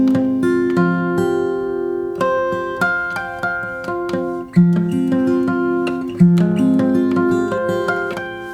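A short, ringing fingerstyle guitar run from a song arrangement: plucked notes climb and sustain, an open string rings out, and a bell-like harmonic follows. Close and clear, with no voices.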